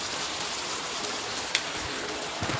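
Dense steady downpour of heavy seasonal rain, a constant hissing wash broken by one sharp drop or knock near the middle and a few soft thuds at the end.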